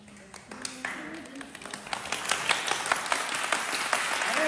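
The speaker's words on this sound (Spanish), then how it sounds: "Vamos a darnos un aplauso." Group applause at a camp dance activity, building from scattered claps into quicker, denser clapping that swells louder toward the end, with voices mixed in.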